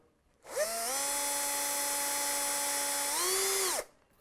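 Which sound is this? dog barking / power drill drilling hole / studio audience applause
power drill drilling hole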